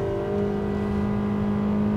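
A 2015 Honda Accord engine revs steadily with a constant droning whir while the car slides through a bend on a wet road, loud and close with no talk.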